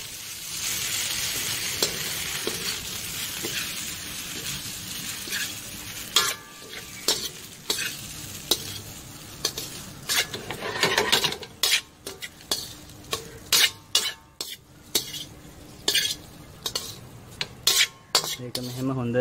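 In a pan of light-browned garlic, 150 g of boiled pasta sizzles softly, with a utensil scraping and clinking in irregular stirring strokes that grow sharper and more frequent toward the end.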